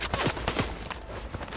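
Rapid gunfire in the Fortnite video game, a quick burst of several close, loud shots in fast succession over about a second and a half.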